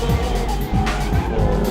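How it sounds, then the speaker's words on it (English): A drift car skids through a turn at a drift event, tires squealing with an engine revving loudly and close, in a short burst against a busy background. "it obviously starts drifting before you're ready."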